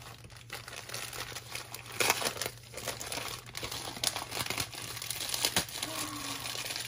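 Gift packaging from a happy-mail parcel crinkles and rips as it is torn open by hand, a continuous close rustle with several sharper tearing bursts and no talk.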